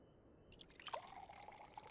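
Tea being poured in Final Fantasy XIV, a soft, close trickle of water that begins partway in and runs steadily with faint dripping, quiet and alone.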